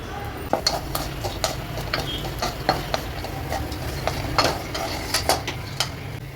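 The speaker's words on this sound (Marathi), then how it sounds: "कढईत तूप टाकायचं आहे त्याच्यामध्ये हे पिस्ते आहेत ते टाकायचे आणि हे किसमिस आहेत ते पण टाकायचे" Pistachios and raisins roasting in ghee in a wok, soft sizzling under repeated light clinks and scrapes of a spoon stirring against the metal, close and fairly quiet.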